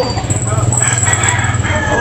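A rooster crows at a busy chicken market in Tabunok, a sustained call over crowd noise, fairly close and loud, with traffic and general bustle behind it.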